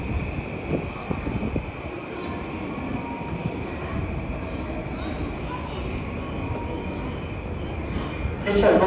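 A train pulls away from a platform at Tokyo Station with a steady low rumble of wheels and cars rolling past. Platform announcements play over the noise, and a louder burst comes at the end.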